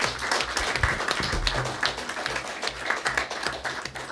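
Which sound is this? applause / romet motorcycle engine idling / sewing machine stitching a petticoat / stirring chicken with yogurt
applause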